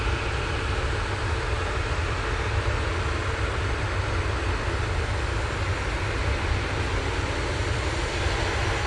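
A TUI airliner inbound from Montego Bay arrives at Manchester Airport, its engines a steady, loud, unbroken roar that holds at an even level throughout, with no voices.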